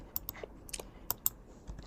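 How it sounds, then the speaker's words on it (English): Quiet, irregular clicks of keys being typed on a computer keyboard during a Figma web design session, a short burst of separate taps with no speech. "I'm going to hit T on my keyboard and I'm going to type."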